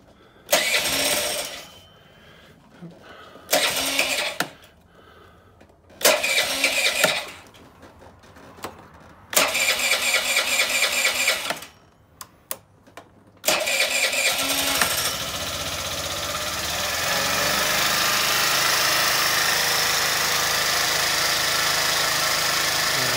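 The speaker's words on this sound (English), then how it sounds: "Let's fire it up and see what happens. I'll let it idle" Spoon Sport scooter after carburetor work: several bursts of cranking that fail to catch, separated by pauses, then the small engine fires and settles into a steady, loud, close idle for the last eight seconds.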